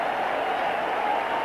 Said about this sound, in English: Cheering, they're loving every minute of it